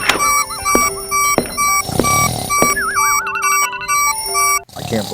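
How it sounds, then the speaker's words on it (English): Several alarm clocks ring together in overlapping, warbling electronic beeps and trills, loud and close, with repeated pulsing patterns layered on top of one another. "I can't believe with all these alarms he didn't wake up."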